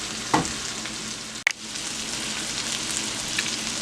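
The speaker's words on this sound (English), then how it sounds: "I'm going to let this fry about 7 to 10 minutes" Corned beef gravy fries in a pot with a steady, dense sizzle throughout, one brief stir-like clatter early on and a sharp knock about midway.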